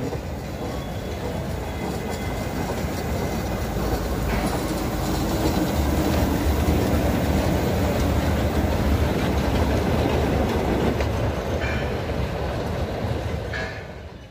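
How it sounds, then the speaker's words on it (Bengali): A train rumbles past up close, a loud continuous roar of wheels and cars that swells in the middle and eases off at the end. "ট্রেন আসছে"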